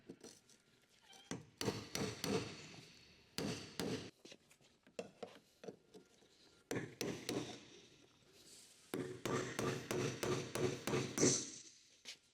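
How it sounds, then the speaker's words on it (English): Sharp metallic tapping in quick bursts as a hammer strikes a flathead screwdriver to tighten a Jeep Wrangler JK fuel pump lock ring, light blows with short pauses between, close and fairly quiet. "Use the flathead screwdriver and hammer to tighten the lock ring."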